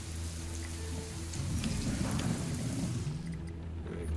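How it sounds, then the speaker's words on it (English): Steady rain falls on the surface in the survival game Sheltered 2, a dense, even hiss of drops with a faint low rumble beneath, continuous and fairly close throughout. "we've got rain on the surface"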